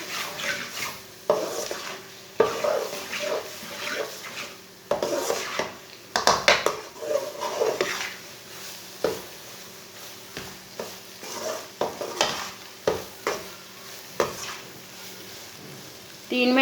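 Chana dal and spinach sauté in a pot with a low, steady sizzle. A spoon scrapes and knocks against the metal repeatedly, in irregular bursts that stay close and moderately loud throughout.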